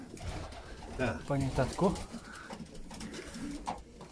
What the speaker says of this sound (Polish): Tu jesteśmy na gołębnikach lotowych, tak?